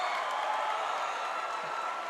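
Basketball crowd at an NBL Governor's Cup game between Batangas and Taguig, a steady wash of distant applause and cheering that runs evenly throughout without clear peaks.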